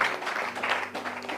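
A church congregation applauds together during a Bible study service, with steady, dense clapping filling the room at moderate volume throughout.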